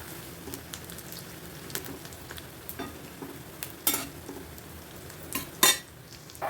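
Onion vadas frying in hot oil give a steady low sizzle, with scattered sharp crackles and brief spatters rising above the bubbling throughout.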